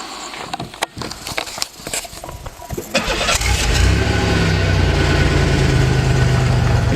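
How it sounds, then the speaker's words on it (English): A car engine cold-starts after a few seconds of quiet shuffling and clicks: a short crank catches and settles into a loud, steady idle that holds to the end. "Could we get a cold start on this bad boy?"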